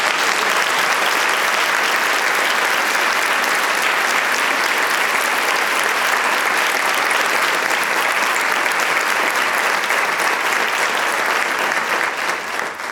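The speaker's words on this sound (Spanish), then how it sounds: "el primer aplauso por favor para ella." An auditorium audience applauds author Julia Navarro at her book presentation, a long, loud, even wash of clapping from a full hall that holds steady throughout and eases slightly at the very end.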